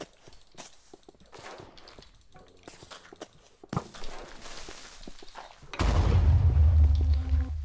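After some scattered steps and thuds, a sudden loud Minecraft Creeper explosion bursts in and keeps roaring with a deep rumble to the end.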